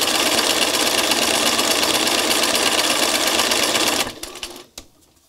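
Sewing machine running a second pass over thread stitching on a craft flower, a close, loud continuous whir for about four seconds before slowing and stopping with a few final clicks.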